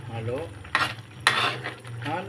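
Mountain vegetables stirred in a pan as they cook, with a few sharp scraping strokes over a soft sizzle while a voice talks in the background.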